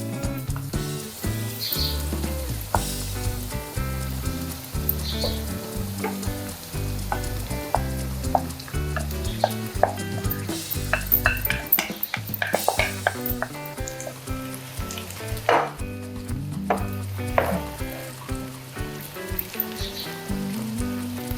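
Sago khichdi sizzles in a pan while a spoon stirs it, giving continuous loud frying hiss with repeated scraping and clinking strokes throughout; no talking.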